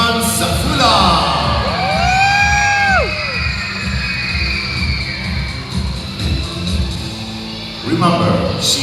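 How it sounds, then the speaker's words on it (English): An audience at a Dubai dolphin show cheers and shouts loudly and continuously, with high rising whistles sweeping over the crowd noise. "Everybody, clap your hands, Zafula!"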